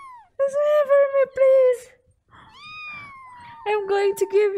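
Several drawn-out, wavering meows sound close and clear, separated by short pauses.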